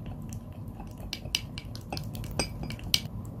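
A homemade salicylic acid serum with fish oil capsules being mixed in a small bowl, with light clinks and scrapes of a utensil against the bowl scattered over a quiet background.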